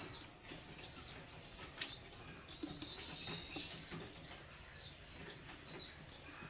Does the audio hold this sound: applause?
no